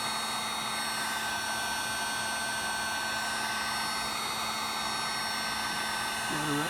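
Heat gun blowing hot air during a cable repair on a 1969 Camaro Astro Ventilation system, a continuous loud, even whooshing drone held up close throughout.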